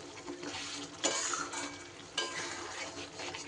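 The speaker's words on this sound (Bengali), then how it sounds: "ভালো করে মিশিয়ে দিলাম।" Eggplant curry being stirred in its gravy, heard as a wet sizzling hiss with a couple of spoon-against-pan scrapes, close and moderate in level, with no voices.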